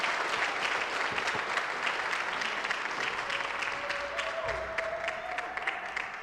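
A conference audience gives a steady, dense round of applause on opening night as a session moderator and panel are welcomed, clapping sustained throughout with a faint tone rising late.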